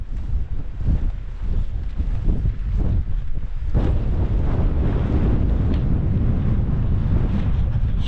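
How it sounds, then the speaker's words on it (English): Blustery wind buffets a mountain campsite in the Howgills, a continuous low roar with gusts pushing against the microphone, and no one speaking. "it's a bit blustery."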